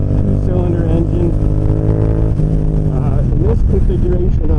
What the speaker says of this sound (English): And the Yamaha XSR also uses this CP2 motor. It's a 270-degree crank, two-cylinder engine.